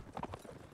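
Quick hoof clip-clops from a horse in a video game, a few close, rhythmic beats over a soft background murmur.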